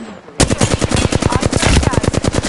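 Rapid automatic gunfire in a shooter video game, a dense loud stream of repeated shots starting abruptly after a brief quiet moment and continuing steadily.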